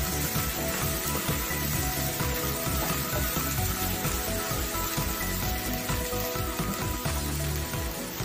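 Okra masala with curry leaves sautés in a pan, giving a dense, steady sizzle like rain that stays loud and unbroken from start to finish.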